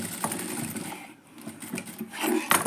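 A sewing machine stitches a cord in short, uneven bursts of whirring and clatter, fairly close, with brief pauses and a few sharp clicks in between.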